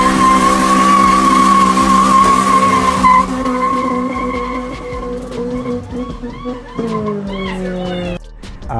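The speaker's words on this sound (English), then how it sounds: "the way the VTEC engages, it engages aggressive." A Honda Torneo Euro R with an H22A engine revs and shifts as VTEC engages, a loud, aggressive tonal whine that climbs, drops and climbs again, close by, with talking mixed underneath.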